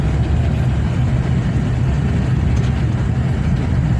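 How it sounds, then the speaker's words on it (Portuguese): Another car moves along a quiet, dusty town street in Assaré, Ceará, producing a continuous low engine drone at a steady, fairly loud level with no clear rise or fade and no speech. "Outro carro."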